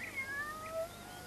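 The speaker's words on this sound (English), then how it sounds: "It's our cat and her kittens." A cat and her kittens meow from inside a coat in a farmyard straw bed, a few short, faint, high mews in quick succession with no one speaking.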